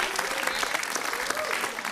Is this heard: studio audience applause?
yes